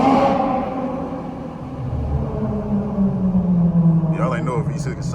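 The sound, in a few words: Dodge Charger V6 engine downshifting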